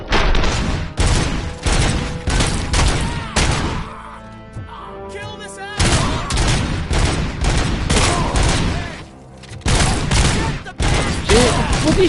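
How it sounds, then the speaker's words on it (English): Gunfire in the PS5 game Robocop: Rogue City: loud, rapid bursts of automatic shots and heavy booms in repeated volleys, broken by short gaps with game sound effects, dense and up close. "He shot you 17 times."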